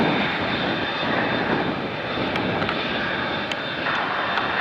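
A United Airlines Boeing 787-8 Dreamliner jet taking off from San Francisco International, its engines a loud, steady broadband roar that holds evenly throughout without a break.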